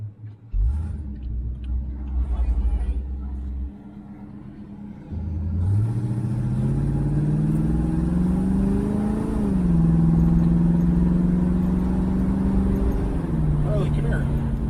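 A 1970 Oldsmobile Cutlass convertible cruising, its V8 rumbling low at first, then building into a steady rising drone with road noise as it picks up speed, heard from close by.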